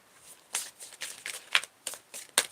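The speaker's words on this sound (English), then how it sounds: "Let's give these cards a little shuffle." A deck of tarot cards is shuffled up close: a quick run of crisp riffling and flicking bursts, quiet and with no talk.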